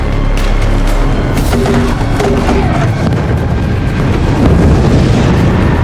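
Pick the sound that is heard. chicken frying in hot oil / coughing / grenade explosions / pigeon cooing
grenade explosions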